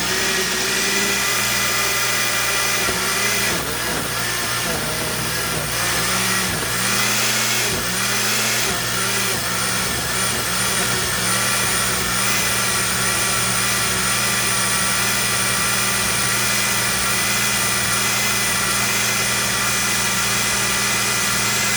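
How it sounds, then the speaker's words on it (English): A kitchen blender whirring as it purées red enchilada sauce, a loud steady motor drone running unbroken throughout. "Now I'm going to hit the mix button."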